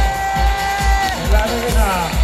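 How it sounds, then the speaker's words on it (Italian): An arena crowd in a cycling video game set at Verona's arena applauds, a broad wash of clapping and cheering with a steady rhythmic pulse while a voice speaks over it. "L'arena di Verona applaude"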